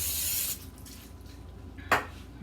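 Cooking spray is misted onto a rectangular brownie pan in a home kitchen, a steady near hiss for about half a second, then quiet with a brief clatter of the pan afterward.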